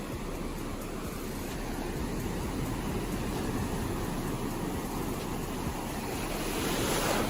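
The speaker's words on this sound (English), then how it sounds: "Another wave about to hit my knees." Ocean waves washing and crashing on a beach around a person standing in the surf, a continuous broad roar of surf mixed with wind buffeting the microphone, loud and close throughout with no voices.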